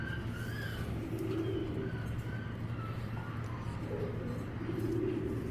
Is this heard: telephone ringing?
no